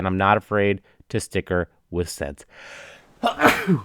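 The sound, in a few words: sneeze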